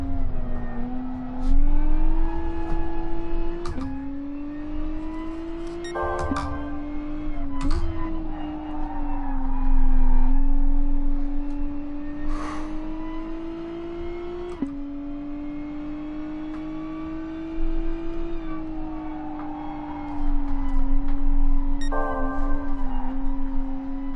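A race car engine drones loudly and continuously in Gran Turismo Sport during an N300-class race at Brands Hatch Indy, with pitch rising on acceleration and dropping at gear shifts and braking.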